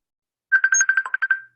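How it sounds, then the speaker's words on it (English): Outgoing phone call ringback tone during a video call, a short burst of rapid, evenly pulsed electronic trilling beeps, clean and moderately loud against silence. "Calling Yolanda."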